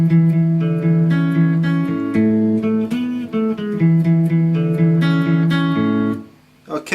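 An electric guitar plays the opening riff of a pop-punk song, a steady run of sustained chords and picked notes shifting every half second or so, loud and close, ringing alone before briefly dropping near the end.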